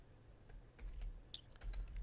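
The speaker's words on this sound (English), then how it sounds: "If I can type, I'm having a hard time typing this evening." Quiet clicks of typing on a computer keyboard, a short irregular burst of keystrokes heard faintly and close, alone without speech.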